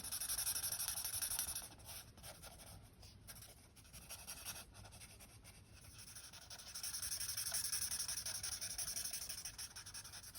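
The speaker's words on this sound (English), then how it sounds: "I like the chisel nib for just applying a whole lot of colour real quick." Chisel-nib marker laying down colour on paper, quick close scratchy strokes that rub back and forth in soft repeated bursts, with a brief quieter stretch in the middle.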